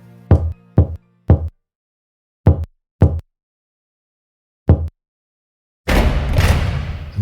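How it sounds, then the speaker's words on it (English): Knocks land on a door, three quick raps, then two, then a single one, each sharp and close with silence between, followed by a burst of rustling noise. "I knocked as Jessie had instructed me. 3 knocks, then 2,"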